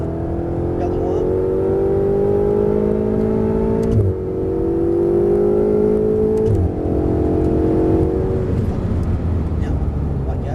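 A Ferrari 488 running hard on the Circuit du Castellet, its engine a loud, continuous high-revving drone that climbs through the gears, with brief dips at shifts around four and six and a half seconds.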